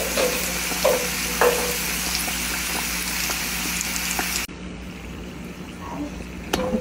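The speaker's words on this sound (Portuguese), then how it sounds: "Vou fritar só de dois em dois." Pastel dough frying two at a time in a small pan of hot oil, a steady crackling sizzle with a few stirring clinks and scrapes that quiets partway through, with no talking.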